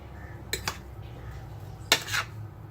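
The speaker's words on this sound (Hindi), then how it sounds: "अब इसको अच्छे से मिक्स कर लेती हूँ।" A spoon clinks twice against a bowl, then twice again a little later, while white pepper, red chilli powder and garlic powder are mixed together. Short, close metallic taps over quiet room noise.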